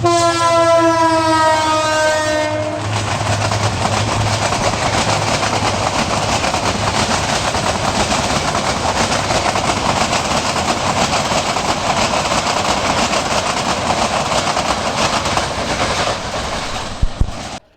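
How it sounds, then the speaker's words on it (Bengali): A train horn blares for a couple of seconds, then a loud, steady rush and clatter of an intercity train's cars rolling past close by through Arikhola railway station, Bangladesh. "সরাসরি কোনো আন্তনগর ট্রেন এই মুহূর্তে ঢাকার দিকে চলে যাচ্ছে"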